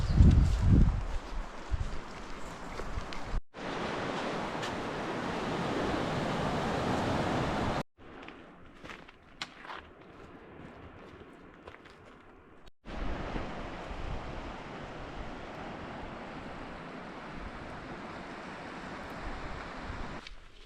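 Ocean waves on a New Zealand beach: continuous broad surf roar with wind noise buffeting the microphone, loud and close, broken by brief cuts between segments.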